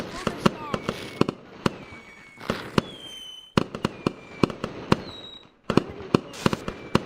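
Repeated sharp fireworks bangs burst in clusters, some with faint whistling tails, while a person talks in the foreground between the blasts.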